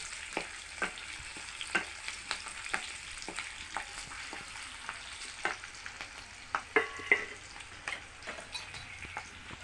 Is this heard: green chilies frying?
yes